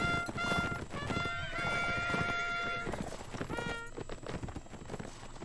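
Rapid hoofbeats of a horse clopping in a quick rhythm in a video game, with a brief whinny, set against game music and ambience.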